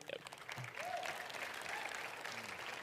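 Faint, steady applause from an audience at a PhoenixONE gathering, a dense wash of clapping that swells after the first moment and carries on evenly, with a few faint vocal sounds over it.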